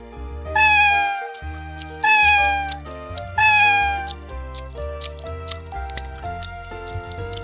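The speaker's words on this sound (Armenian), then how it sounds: "Ձկնիկի իրական սիրահարը կատուն է։" A cat gives three loud, drawn-out meows at a steady pace over a plucked musical accompaniment, each cry rising and falling clearly above the music.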